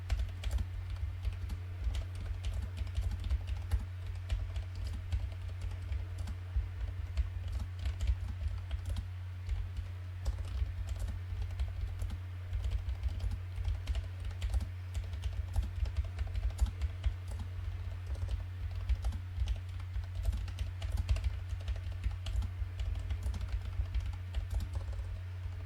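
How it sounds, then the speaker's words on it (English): Steady, rapid keyboard typing recorded through a Samson Q2U dynamic microphone without filters runs continuously for the whole stretch, with dense clicky keystrokes over a low constant hum and no talking. "So I'm going to do a typing test without the filters."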